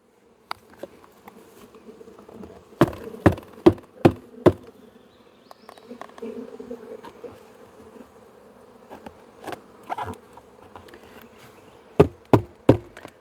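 Honeybees buzz steadily while being moved from a nuke into a hive body, a continuous hum broken by sharp knocks and taps of wooden boxes and frames, with clusters of hard thumps near the start and end.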